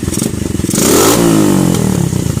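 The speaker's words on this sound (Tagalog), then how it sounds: "so meron siyang diesel pop na lumalabas" A motorcycle with a stock jet and bullet pipe revs up close and loud, its engine rising and falling with sputtering, crackling pops in the exhaust.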